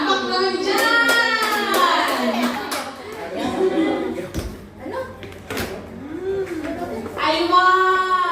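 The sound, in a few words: people clapping hands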